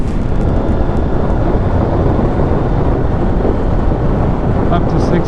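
A BMW F900R motorcycle riding at speed in fifth gear near 80 mph, its engine drone buried under steady, loud wind roar that runs unbroken throughout.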